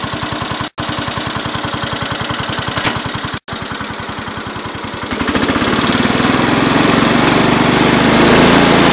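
A Cub Cadet 107 lawn tractor engine, freshly fitted with a new fuel filter and fuel line, runs loud and close with a rapid chugging beat, then revs up about halfway through into a stronger, smoother roar.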